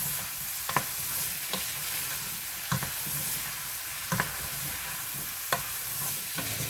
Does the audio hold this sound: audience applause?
no